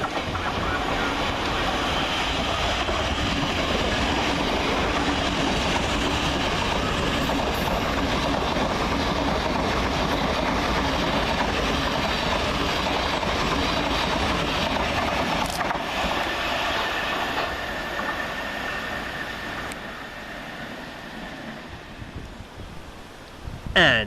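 A Class 700 electric train, unit 700-142 on a Brighton to Cambridge service, passes through Preston Park station. It makes a long, loud, continuous rumble with rail clatter that eases off near the end.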